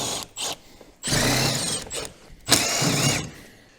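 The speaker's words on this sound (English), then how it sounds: "We've got impact gun," An impact gun removing screws on a four-wheeler, with three loud close bursts of buzzing rattle, the first short and the next two longer, separated by brief pauses.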